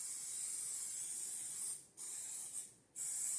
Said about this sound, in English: we're going to spray these 2 loaf pans so they don't stick